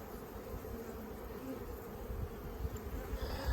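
Honeybees buzz continuously around an open hive with a virgin queen during an inspection, a dense, steady drone close by with no talk over it.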